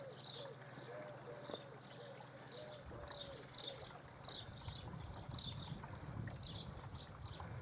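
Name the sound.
water trickling through a koi pond river filter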